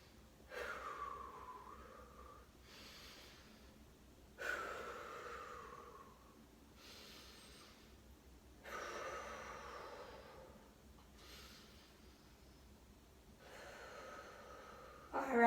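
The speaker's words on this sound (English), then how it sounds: "5 deep breaths." Slow, deep breaths during a yoga forward fold, five breathy rushes of air alternating in and out, close and soft, with quiet pauses between them.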